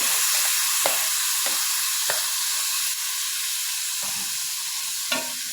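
Dried red chillies sauté in a hot pan for a ginger curry, with a steady close sizzle and a few sharp scraping stirs at regular intervals.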